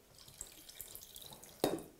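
Water poured into a small saucepan over strawberry jam for a sauce, a brief splash that swells near the end after faint drips and kitchen clatter.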